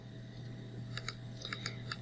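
Calculator keys are tapped in a quick run of faint, light clicks over a steady background hum.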